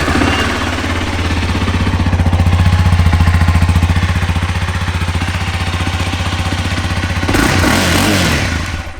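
A 2015 Honda CBR300 motorcycle engine with about 6,230 miles fires up and idles close by, a loud, even, rapid putter that holds steady and then shifts near the end.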